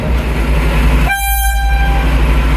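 A train led by locomotive D1015 rumbles past close by at a seafront, then its horn blares in a loud, sustained multi-tone blast over the heavy engine noise.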